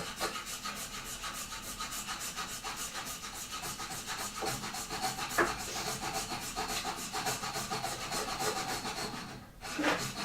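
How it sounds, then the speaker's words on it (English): Steady, rhythmic scraping as a blade trims the end of an Edison wax cylinder recording blank, close and fairly quiet, with a brief knock near the end. "at this time we are cutting off the non-titled end, I call it, of the blank"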